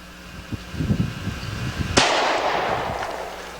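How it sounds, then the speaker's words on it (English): Single sharp, loud shot from a 400 Carbine rifle firing a 135 grain bullet through a chronograph, with a ringing tail after it and some quiet handling noise beforehand. "Let's see what it does through the chronograph. 135 grain bullet."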